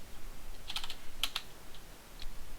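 Code typed on a computer keyboard, a few quick clusters of crisp key clicks up close, with quiet gaps between the bursts.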